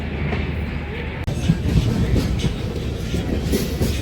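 A passenger train from Secunderabad to Vasco da Gama rolls along steadily, a continuous low rumble with rhythmic clacking of wheels, loud and close throughout.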